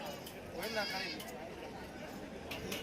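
Goats bleat with wavering, nasal cries from nearby at a Saturday livestock market in Shirur, Pune district, while people talk over the animals throughout.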